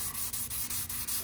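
Steady back-and-forth wet sanding strokes on truck paint, about five or six in a row, with a soft abrasive hiss, close and fairly quiet.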